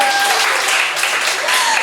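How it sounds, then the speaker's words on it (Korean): Steady applause from a classroom or lecture audience, dense continuous clapping with no break throughout. "박수 한번 쳐주세요"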